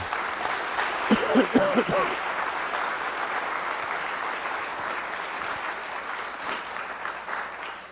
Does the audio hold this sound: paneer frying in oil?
no